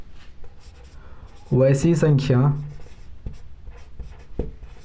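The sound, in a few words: writing the proof by hand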